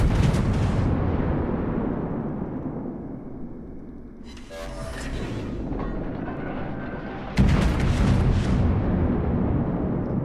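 Heavy naval artillery booms in the World of Warships video game, with a deep rumbling salvo that swells and fades, then a second loud blast near the end, all close and powerful with no talk.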